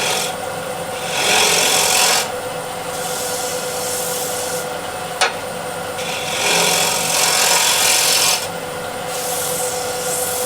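A turning tool scrapes out the center of an 11-inch osage orange bowl spinning on a lathe. The steady rasping swells into louder, brighter passes several times, with one sharp click partway through.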